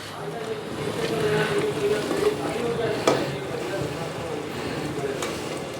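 Sarson ka saag is stirred in a pan over the gas flame as flour goes in a little at a time, giving a soft continuous scraping and bubbling sizzle with one sharper knock of the spoon.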